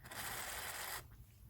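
A cleaner spray is applied while refurbishing a vintage 1930s electric fan: one steady hiss of about a second, close and fairly loud, cutting off abruptly into quiet room noise.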